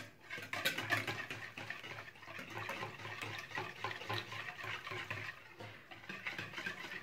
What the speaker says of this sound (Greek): Θα ρίξω μέσα το μέλι.